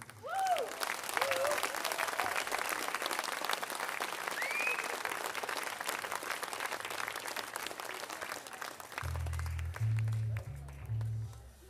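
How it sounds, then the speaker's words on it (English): Loud, sustained audience applause and cheering for a singer's backing band at a live music show, steady dense clapping filling most of the clip before a low instrumental tone enters near the end. "Can I just get one more huge round of applause"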